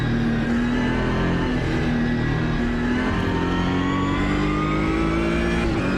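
A V12 race car engine in a racing video game roars loudly and continuously, its pitch climbing steadily as it accelerates, with no voices.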